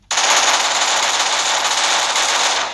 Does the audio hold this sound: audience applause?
no